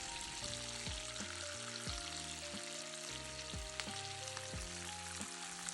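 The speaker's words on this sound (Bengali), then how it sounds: "স্টেকটি আবার উল্টিয়ে দিচ্ছি।" A T-bone steak sizzles and fries in a pan with rosemary and thyme, a continuous close crackling hiss that holds steady throughout, with no talking.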